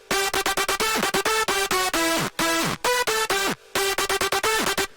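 A bright synth lead is played dry, without a tube saturator, in a fast staccato run of plucky notes with quick pitch drops, a few brief gaps breaking the pattern, alone with no voice.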